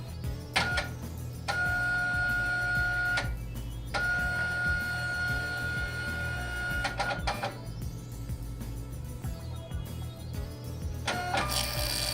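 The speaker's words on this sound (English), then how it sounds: "Allow the printer to reset and print a configuration label." A Zebra ZT230 label printer resets and prints a configuration label: tonal beeping and humming bursts, a few sharp clicks, then a whirring feed as the label comes out, close and clear.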